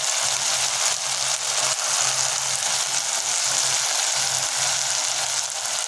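Ground red chilli, turmeric and coriander powders sizzle steadily in hot oil in a kadai, a continuous bright frying hiss with no voices.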